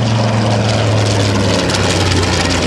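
A WWII warbird torpedo bomber nicknamed the Turkey flies over at the Cleveland National Air Show parade, its loud, steady piston engine and propeller drone filling the air with a low humming tone.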